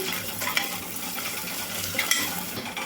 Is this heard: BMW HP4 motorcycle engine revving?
no